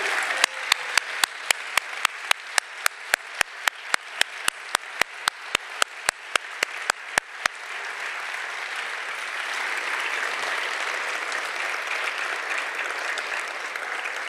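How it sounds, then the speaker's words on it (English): Audience applause for poets at a poetry reading: some two dozen sharp, evenly spaced claps ring out at first, then merge into a steady, sustained wash of clapping from the crowd. "Let's give a round of applause to all our poets for tonight."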